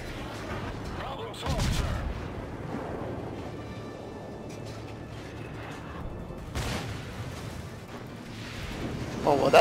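Warship guns fire in the naval combat game World of Warships, heavy booming salvos arriving in a few separate bursts over a low engine rumble, with someone talking intermittently over the action.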